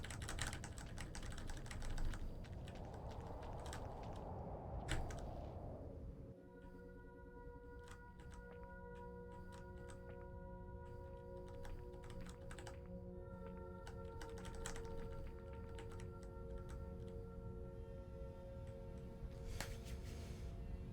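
Steady rapid typing on a computer keyboard, close and quiet, with continuous clicky keystrokes running throughout and a faint tonal hum in the background.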